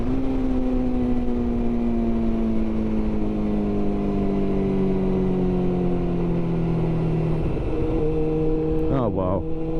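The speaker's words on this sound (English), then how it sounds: "Bloody tractor." A tractor engine drones steadily nearby, its pitch sagging slowly and then shifting near the end as a brief rattling noise cuts in along a back lane.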